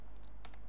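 A handful of light computer keyboard clicks, close and faint, land in a quick burst of under a second while a file path is typed.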